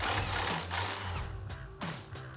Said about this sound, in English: grab a 16mm deep socket, and we're gonna remove the factory nut off of our sway bar end link